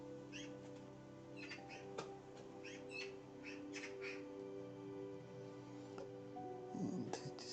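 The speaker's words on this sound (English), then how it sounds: "you can hear the birds in the background, those are the magpies." Magpies calling in the background outside a spring greenhouse garden, with scattered harsh chattering calls at moderate distance over a steady low hum.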